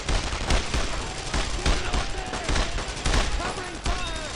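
Gunfire in the World War II shooter Brothers in Arms: Road to Hill 30, a dense battle of overlapping rifle and machine-gun shots, steady and moderately loud with frequent sharp cracks.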